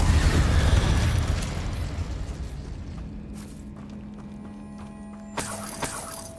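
A fire spell in the game Hogwarts Legacy: a loud rushing burst of flame that opens the clip and slowly fades, followed by a couple of smaller pops near the end, with no talking.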